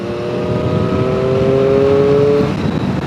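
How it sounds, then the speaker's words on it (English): Loud, close induction roar from a 2021 Triumph Street Triple 765 R motorcycle, a steady sustained engine tone that holds for a couple of seconds before easing off, with no one talking. "The induction roar as well."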